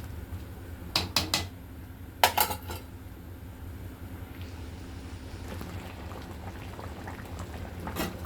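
Radish and dried fish kuzhambu simmering in a pot gives a soft, continuous bubbling, broken by a few sharp metallic clinks of a utensil against the vessel; close and fairly quiet.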